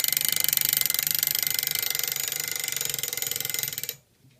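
A homemade electromagnetic buzzer made from a nail and an iron blade, giving a loud, harsh, rapid rattling buzz that runs steadily, then cuts off abruptly into silence.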